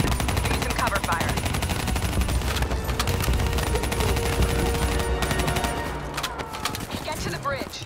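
Dense automatic and rifle gunfire from the Girls Frontline campaign battle, sustained bursts overlapping throughout, loud and continuous, with voices talking over the fighting.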